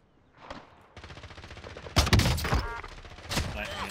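Sniper fire and gunfire in a Warzone match, with several sharp loud shots and bursts clustered near the middle and end of the clip, plus scattered game noise.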